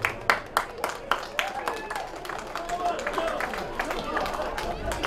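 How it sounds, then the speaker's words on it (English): Crowd applause for the under-18 rugby league teams at a Tathra versus Bega grand final, a dense patter of many hands clapping steadily with scattered sharper claps and crowd noise, moderately loud and continuous. "I think both clubs deserve a round of applause."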